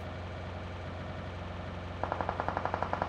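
Rapid automatic gunfire from a firefight in PUBG Mobile starts partway through, a steady burst of sharp evenly spaced shots over a low engine-like drone.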